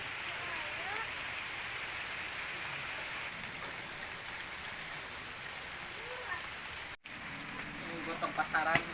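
Steady rain falls in a dense, even hiss of drops on surfaces, close and constant, with a brief dropout and faint voices near the end.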